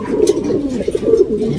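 Racing pigeons in a loft coo loudly and close by, a rolling, throaty warble with a few pulsing accents that runs through the whole moment, without speech.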